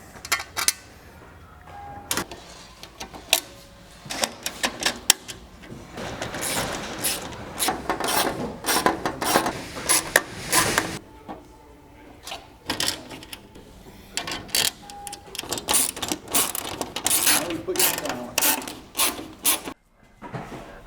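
Ratchet bolting a hatchback drag wing onto a Fox Body, quiet clicking and ratcheting bursts with rubbing and handling noises, fairly close and irregular with brief pauses.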